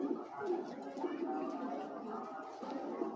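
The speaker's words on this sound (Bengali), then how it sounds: "এটা পাইথন একটা মাদি কবুতর ভাই" A female Python-breed racing pigeon coos softly, low and murmuring, in a quiet indoor setting with faint voices nearby.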